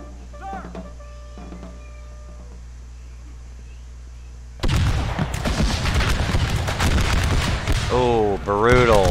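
Units in a video game open fire, starting after a quiet stretch with faint sounds as a sudden loud volley that breaks into dense, crackling continuous gunfire with booms, close and sustained.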